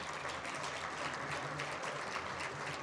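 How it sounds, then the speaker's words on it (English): Steady applause from a gala audience honoring a conference chair team, a dense even wash of many hands clapping at a moderate distance with no talk over it. "we just need to give another round of applause for this year's annual conference chair team"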